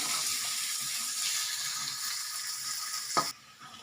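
Onions sauté in a pan for egg fried rice, giving a steady close sizzle and hiss that cuts off abruptly near the end after a brief clatter.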